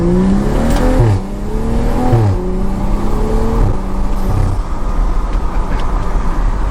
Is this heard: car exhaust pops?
yes